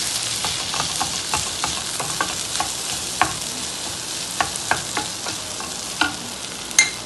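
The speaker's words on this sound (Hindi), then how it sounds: "इन पोटैटो को इसमें डाल देंगे, और इसे भी इसमें सारा मिक्स कर देंगे।" Potatoes being stirred and mashed into a pan of bread samosa filling, with soft scraping and clicking of the spoon against the pan, irregular light taps over a faint steady background hiss, no talk.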